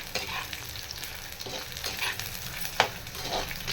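Dried red chillies, two Kashmiri and four ordinary, sauté in a pan for garlic dosa with a soft, steady sizzle and repeated scraping strokes of stirring. One sharper clatter comes near the end.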